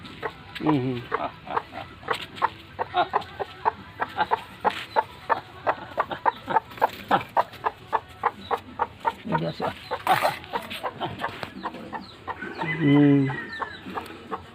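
Tamil Nadu Asil parrot-beak breed hen brooding on eggs, giving repeated low clucks and short fowl calls close by, with other chickens calling in the background and a longer vocal cry near the end.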